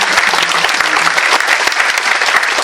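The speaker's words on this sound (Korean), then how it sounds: "다시 한번 큰 박수를 감사드립니다" A large audience at an education community book concert gives a loud, dense round of applause, steady and unbroken from start to finish with no voices on top.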